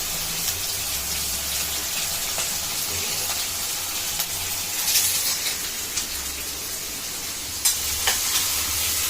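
Sliced onions and curry leaves fry in a pan as the base for a stingray fish kuzhambu, making a continuous close hiss and sizzle with a few soft clicks and stirring knocks, and no voices.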